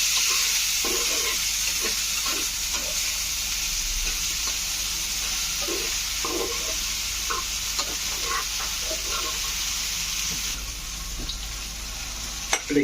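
Onion, chili, eggplant and okra fry in a home pan, a steady hiss and sizzle running throughout while a utensil scrapes and stirs in irregular, fairly close knocks, with no talking.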